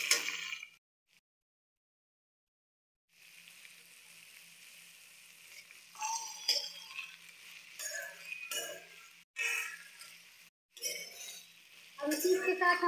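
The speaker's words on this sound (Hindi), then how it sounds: "अब इसमें हम कटे हुए कद्दू और आलू भी डाल देंगे। और इसे अच्छे से मिक्स कर देंगे।" Chopped pumpkin and potato are stirred into softened onion in a pan, giving intermittent clinks and scrapes of a spoon against metal over a light sizzle, broken by short silent gaps.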